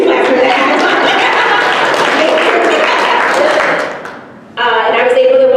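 An audience at a keynote speech on equity breaks into loud, sustained clapping that fades away before the speaker's voice comes back in at the end.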